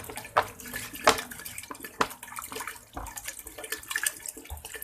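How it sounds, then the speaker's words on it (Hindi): Water poured from glasses into a pressure cooker holding mixed lentils for mutton haleem, a few splashy pours with sharp clinks against the vessel, close and fairly quiet, with no talking. "अब मैं इसमें तकरीबन 7 से 8 गिलास जो है पानी डालूंगी"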